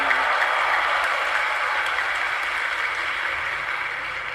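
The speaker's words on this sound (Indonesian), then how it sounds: "Kenapa tepuk tangan ini?" Steady, dense applause from an audience at a university talk, continuous and even in loudness, with no individual voices standing out.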